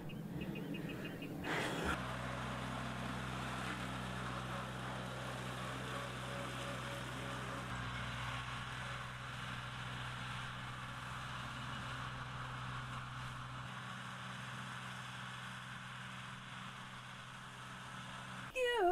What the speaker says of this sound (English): This little tractor is so amazing. It's doing a great job of making our grass into hay.